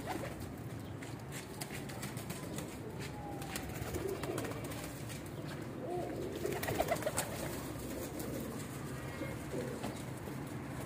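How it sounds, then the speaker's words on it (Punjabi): Pigeons kept by a fancier coo softly and intermittently, low and somewhat distant, over a steady hiss of outdoor background noise. "ਇਹ ਕਬੂਤਰ ਵੇਖੋ ਮਾਸ਼ਾਅੱਲਾ"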